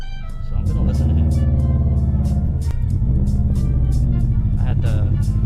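A 2004 Subaru Impreza WRX fitted with a PERRIN short-ram intake drives along with a steady, loud engine drone and shifting gear tones, while a person talks over it throughout.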